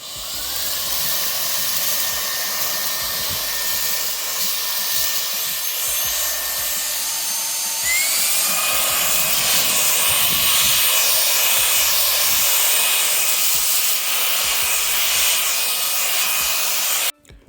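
A Wyze cordless vacuum runs on medium speed with its small nozzle fitted, giving a loud, steady motor whine and airy hiss that lifts in pitch partway through and cuts off abruptly at the end.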